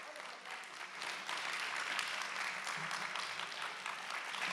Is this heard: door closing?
no